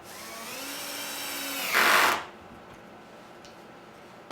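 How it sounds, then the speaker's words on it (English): Power drill driving screws into a cedar garden potting bench, a close whirring spin that climbs in pitch, ends in a brief louder burst and then stops, leaving near silence. "all we got to do is just put these other 2 screws in and we're good to go"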